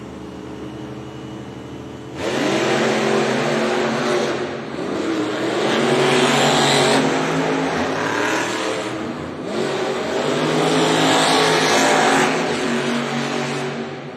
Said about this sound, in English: Going head-to-head against Weston Anderson